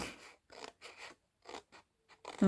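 Scissors cut out paper for a stamped sun decoration, a quiet, close series of short snips in irregular bursts with brief pauses between cuts.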